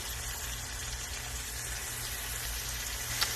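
Onions sizzle in a hot pot for a Greek stew, a steady dense frying hiss that holds evenly throughout with no talk.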